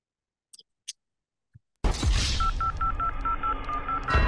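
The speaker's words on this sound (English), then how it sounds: "I'm on the phone with Kay Simone." Telephone dialing tones: a few faint clicks, then a steady run of short, evenly spaced keypad beeps over a line hiss and hum.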